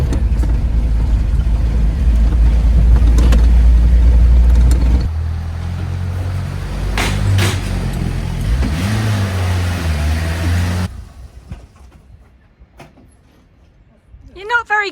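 A manual-transmission car rolls along a bumpy road with a loud, steady engine rumble and jolting interior noise that drops away to near quiet toward the end.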